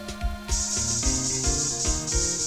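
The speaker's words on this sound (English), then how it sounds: "Spray." A luminol spray effect from the Phoenix Wright: Ace Attorney video game, a bright sustained hiss running for about two seconds over looping game music with soft bass thumps.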